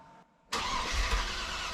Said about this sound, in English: this is me just cranking the engine over a couple of times just to make sure that everything turns over